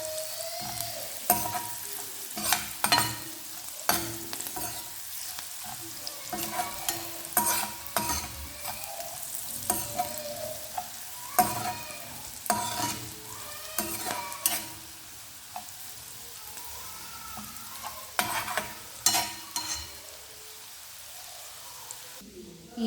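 Egg fried rice ingredients, turmeric and chili in a hot tempering, are stirred and mixed in a pan: quiet spatula scrapes and clacks come in irregular bursts over a soft background sizzle, with no speech.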